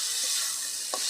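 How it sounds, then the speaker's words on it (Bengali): Chopped tomatoes sizzle in hot oil with fried onions in a pan while a spoon scrapes and stirs them, a steady close crackle with a brief louder scrape near the end. "টমাটাও ভালো করে ভাজা নেবো।"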